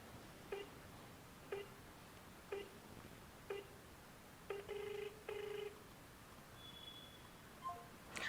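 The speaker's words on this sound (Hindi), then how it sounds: "जब मैं अपने फ़ोन से इस पर कॉल करती हूँ" A phone call to an IVR system rings back with short, evenly spaced beeps about once a second, then two longer tones and a few fainter electronic beeps near the end, alone and quiet.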